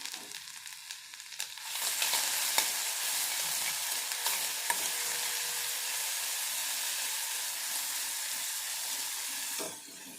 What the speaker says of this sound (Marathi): इथे छानपैकी आपल्याला तेलामध्ये फ्राय करून घ्यायचं आहे